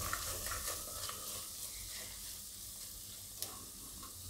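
A spoon stirs Kashmiri chili powder and spices in a hot pan for Gujarati potato and onion shaak, giving a steady close scraping with soft sizzling and a few sharper clinks throughout.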